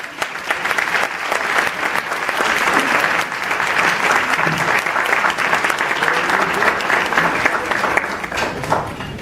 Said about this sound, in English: Give me a second round of applause